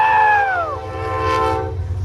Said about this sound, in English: We got an incoming train from New York City.